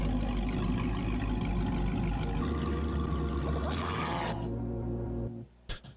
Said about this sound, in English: Told my girl to rev my car so I could hear my new exhaust.